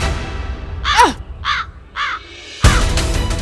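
A crow caws three times in quick succession at a house, close and loud, harsh descending calls separated by short gaps, followed by a burst of noise.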